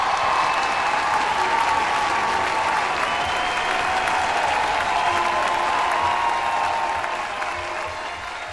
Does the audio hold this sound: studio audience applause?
yes